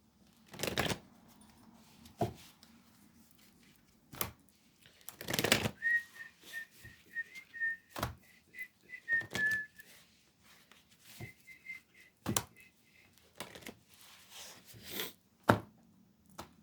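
Tarot cards snapped and shuffled for a final draw, heard as sharp, scattered papery flicks and slaps with pauses between, over a faint steady hum and a thin whistling tone in the middle.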